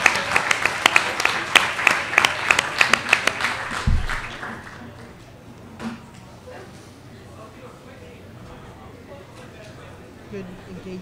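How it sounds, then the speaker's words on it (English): Luncheon audience applauding a final questioner, brisk clapping for about four seconds that ends abruptly, followed by a quiet room with faint movement and a voice starting to speak. "Give a round of applause for the last questioner."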